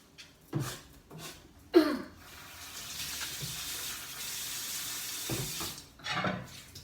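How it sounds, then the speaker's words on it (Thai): Hands are washed under a running tap, a steady close hiss of water with intermittent splashes and knocks, with louder bursts near the start and end. "ล้างมือเอง"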